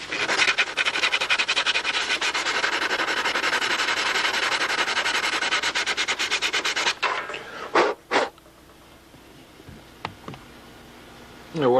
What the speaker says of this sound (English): And I can dress this off with some sandpaper.